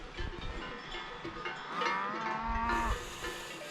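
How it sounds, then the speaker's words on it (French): A herd of cows wearing cowbells grazes on a mountain pasture near the Lac d'Arizes below the Pic du Midi de Bigorre, with shepherds nearby. Loud, drawn-out moos rise over a constant jangle of cowbells, close by and without voices. "donc les vaches ça agresse pas"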